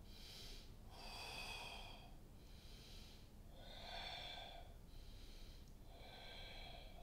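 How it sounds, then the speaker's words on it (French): Slow, audible breathing during a Pilates circle exercise, with long inhales and exhales in an even rhythm, close and clear over a steady background hiss. "Rythmez bien votre respiration sur votre mouvement."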